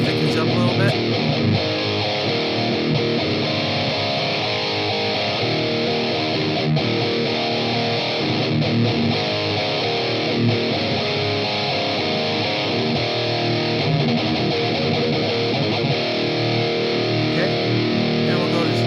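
Heavy distorted metal electric guitar played through amplifiers fills the whole stretch with a dense, loud, sustained tone, strummed continuously with little variation.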